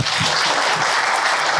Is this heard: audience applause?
yes